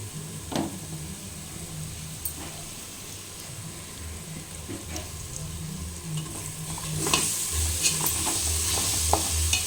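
Ginger frying in a pan as a spoon stirs it, a constant crackling sizzle under frequent scraping and clinking strokes, growing louder and brighter toward the end, close by with no voices.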